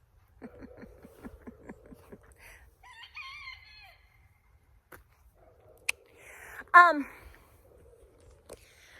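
Miss Blanche, a broody hen hatching eggs, gives a quick run of rhythmic clucks, followed by scattered chicken calls and a louder squawking burst; the sounds are close but fairly quiet, with quiet gaps between them.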